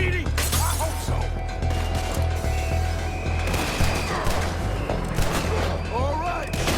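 Gunfire from a Red Dead Redemption 2 shootout in town streets, sharp shots cracking repeatedly over a steady low rumble, mixed with people talking and game score throughout.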